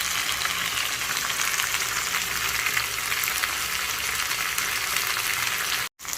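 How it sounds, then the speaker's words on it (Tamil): Sheela fish frying in oil in a pan with spice masala coating, a steady dense sizzle and crackle throughout, close and loud, cutting out briefly near the end. "பாருங்கள் மீன் நல்லா வறுத்தாச்சு"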